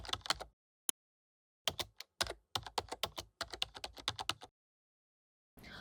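Close keystrokes on a computer keyboard as a first name, last name and password are entered, coming in short quick bursts with a few lone taps and brief pauses between them.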